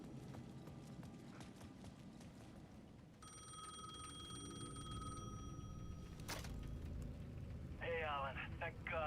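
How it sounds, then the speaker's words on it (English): A payphone at the edge of a plaza rings in the video game Alan Wake 2, its electronic bell trilling for a couple of seconds amid game ambience and footsteps, with a brief talking voice near the end. "The payphone at the edge of the plaza was ringing again."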